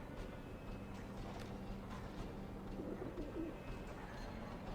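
Pigeons coo softly on the rooftops in the video game Alice: Madness Returns, with low repeated cooing calls over a quiet ambient background.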